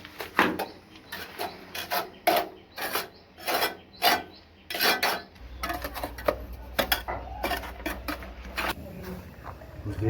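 Sand and cement are mixed by hand for a basin waste line, making close, irregular scraping and rubbing strokes in bursts, with a low hum joining partway through.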